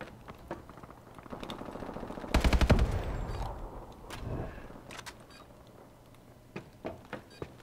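AK-12 rifle fire with a hair trigger in Call of Duty: Advanced Warfare, a short loud burst of rapid shots in the middle, with scattered single cracks and distant shots before and after.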